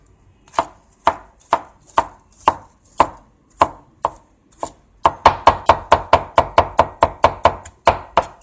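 Garlic cloves for Chinese pork buns being chopped with a knife on a board: steady close knocks, slower and evenly spaced at first, then speeding into a quicker, louder run of chops.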